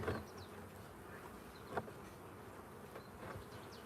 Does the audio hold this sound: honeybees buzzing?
yes